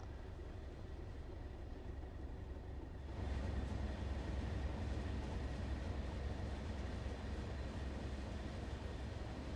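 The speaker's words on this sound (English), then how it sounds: "Just shows how long this train is, man." Freight train of TEA tank wagons rolling along the Derby to Nottingham line in the Train Sim World 4 game, a steady low rumble of wheels and wagons that thickens and grows louder a few seconds in, with no voices.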